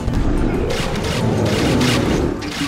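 Explosions from the video game Plants vs. Zombies 2 come as several loud, crashing bursts over a dense, noisy din of game sound.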